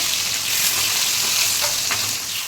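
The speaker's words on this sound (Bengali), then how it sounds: "এই দেখো ইলিশ মাছ ভাজা হচ্ছে" Hilsa fish frying in a pan makes a loud, dense, continuous sizzle with faint crackles close up, and no talk.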